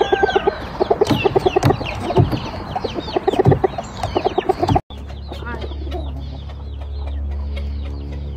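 Asil chickens cluck and chatter busily up close on a Texas farm, a dense run of calls that cuts off abruptly, followed by softer clucking over a low steady hum.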